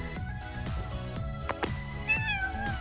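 A cat meows at a horse barn, several clear, fairly close calls over a steady background hum and music-like tones, with one longer rising meow near the end.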